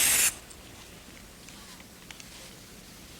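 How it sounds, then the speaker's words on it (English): Oven cleaner sprayed from a can onto aluminum: one brief loud hiss of spray at the start, then faint fizzing and quiet background. "In fact, spray a little more in the center there."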